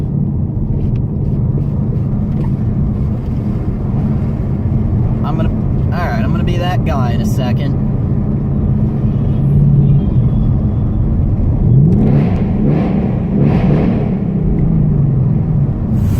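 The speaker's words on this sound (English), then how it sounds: "I love the way this car sounds so much." A car engine drones steadily while driving, a constant low rumble throughout, with someone speaking briefly partway through.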